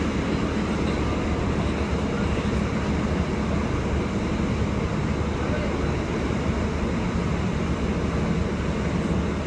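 A passenger train on the Lincoln Central to Peterborough line via Sleaford pulls into Roskington station, with steady loud rumble and rail noise from on board and continuous clatter throughout.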